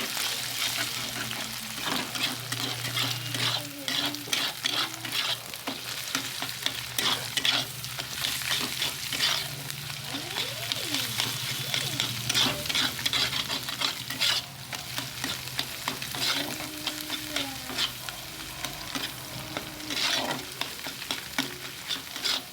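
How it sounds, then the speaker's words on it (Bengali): Egg frying in a pan, a steady sizzle with frequent scraping and stirring clicks, close and continuous, with faint talk now and then. "এখানে ডিমটা ভেজে নিচ্ছি আগে।"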